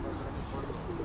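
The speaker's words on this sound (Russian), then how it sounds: "Голуби кругом." Pigeons coo softly around an outdoor spot in Moscow, a faint, low continuous murmur of several birds with no talking.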